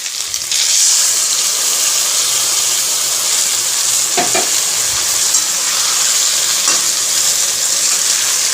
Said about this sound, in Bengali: ডাটাগুলোও ভাজা হয়ে এসছে ডাটাগুলোতে একদম লাল করে ভাজার কোনো দরকার নেই এবার আমি মশলাটাকে মিলিয়ে দিলাম